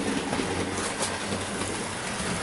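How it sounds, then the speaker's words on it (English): Model locomotive running on a layout and pulling a Wrenn six-wheeled milk tanker wagon, producing a continuous smooth rolling rumble with a faint motor hum, steady and close throughout. "this is not the first time this wagon has ever been run around the layout being pulled by a locomotive, but it's running quite smoothly"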